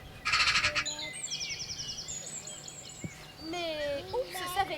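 Birds call near marshes and forest, with a sharp burst of crow caws up front followed by chirps and whistling calls. An outdoor performance setting sits beneath it, with light background noise.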